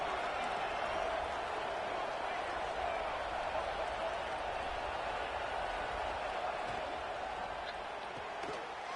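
Crowd noise fills a stadium at an Indiana Hoosiers college football game, a steady distant roar of cheering and applause that holds throughout.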